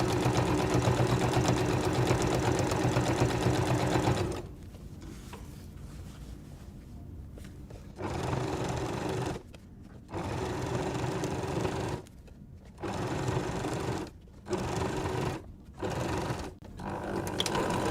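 Sewing machine stitching binding onto a quilt, running in bursts of steady motor whir with several short pauses where the stitching stops and restarts, close and fairly loud.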